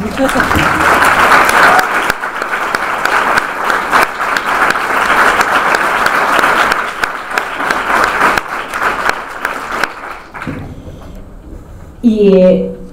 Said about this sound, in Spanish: yo creo que merece un aplauso todo lo que hemos ganado. Así que bueno, aplaudamos.